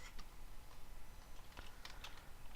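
A computer keyboard clatters with quick irregular key taps while someone steers a racing game on a track with mouse and keyboard, faint and close with no talking.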